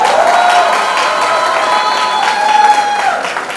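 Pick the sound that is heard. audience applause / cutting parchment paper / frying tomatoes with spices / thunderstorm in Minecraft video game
audience applause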